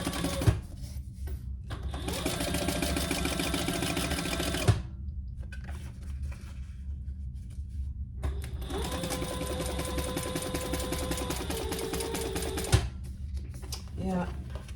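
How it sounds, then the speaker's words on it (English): Domestic sewing machine stitching across the top seam of a mini sling bag, running in two long steady bursts with a pause between, a mechanical whir with rhythmic needle clatter and small clicks at the starts and stops. "we're going to sew that across the top at the seam allowance in the pattern"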